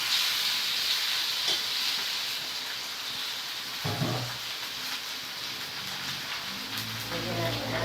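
Chicken frying in a pan makes a continuous crackling sizzle like rain, with a low thump near the middle and a brief voice speaking over the steady hiss.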